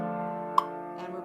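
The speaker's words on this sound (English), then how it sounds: "And I like to use the metronome." A metronome set to 88 beats per minute gives two sharp, evenly spaced ticks over a sustained piano chord, close and clear, with no talking.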